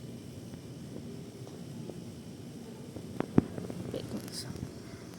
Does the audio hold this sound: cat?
yes